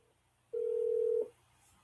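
A telephone tone sounds once on an outgoing call, a single steady beep lasting under a second over a quiet background.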